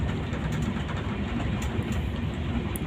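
A moving passenger train on a Jamshedpur to Kolkata journey makes a steady, close, continuous rumble and rattle from inside the carriage, with no talking.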